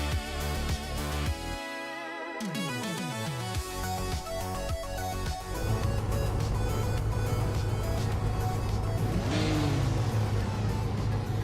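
Race car engines roar and rev in a racing video game, with a classic 1968 Porsche 909 Bergspider and a Nissan on the Cleveland Grand Prix track, loud continuous droning that shifts pitch, layered over music-like tonal bands.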